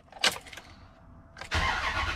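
A 2003 Dodge Ram pickup with an accelerator pedal sensor fault cranks briefly, then its engine catches and settles into a loud, steady running roar, close by with no talking.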